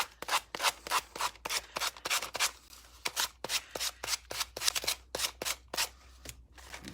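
A rice paper coaster edge, its base finished with gilding flakes, is sanded by hand in quick, evenly spaced rasping strokes, about seventeen in a row. The strokes are close and fairly loud, with no talking.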